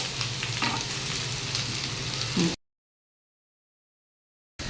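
Taro (colocasia) fries crisply in an oil-filled pan, a steady close sizzle with occasional stirring scrapes for about two and a half seconds, then cutting to silence before the sizzle briefly returns.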